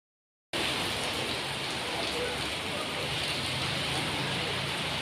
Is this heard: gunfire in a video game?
no